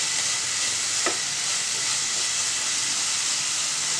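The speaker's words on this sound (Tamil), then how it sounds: "ஸோ எல்லாம் இப்படியே வந்து வதக்கிடலாம் நம்ம ஒன்றாவே." Chopped onions and vegetables sautéing together in a pan, a steady close sizzle and hiss with a single brief utensil scrape near the start, no voices.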